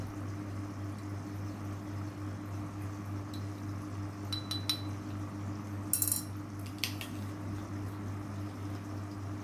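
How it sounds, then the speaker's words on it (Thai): A spoon stirring and clinking against a glass of water tinted yellow in a water-filter demonstration, a few quiet, brief clinks over a steady low hum. "ผู้สาธิตใช้ช้อนใหม่คนให้สีเหลืองกระจายทั่ว แล้วแยกช้อนไว้ต่างหาก"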